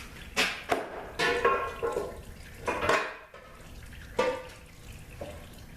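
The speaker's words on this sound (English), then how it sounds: "let me put this in the pan" A removed automatic transmission valve body, a 09G unit, is set into a metal pan, making a series of close metallic clanks, scrapes and rattles spaced irregularly across several seconds.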